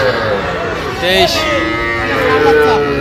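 Young bull calves moo at a busy cattle market, with drawn-out bellows rising over a steady murmur of crowd noise and nearby voices.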